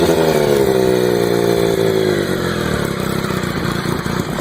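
Triumph 955i triple-cylinder motorcycle engine running close and loud, with a steady throaty drone whose pitch slides slightly downward as it settles.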